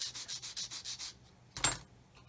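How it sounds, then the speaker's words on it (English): Repeated sanding strokes on a plastic part from an Airfix 1/24 scale F6F-5 Hellcat model kit, about six steady rhythmic rubs close to the microphone, followed by a brief louder scrape or handling noise. "And just basically keep sanding until it just drops in place."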